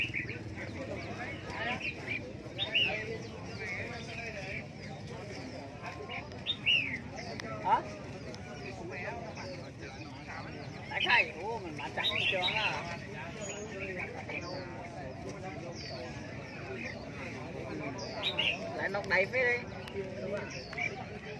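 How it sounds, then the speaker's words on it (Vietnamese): Red-whiskered bulbuls and other caged birds at a Vietnamese bird market: scattered chirps and short calls from several birds over a dense, busy background murmur of the crowded market, with voices talking throughout. "toàn bộ khu vực này là chợ chim"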